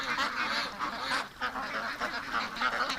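Ducks near a creek keep up a close, busy run of quacks and honks, many calls overlapping at a steady moderate level.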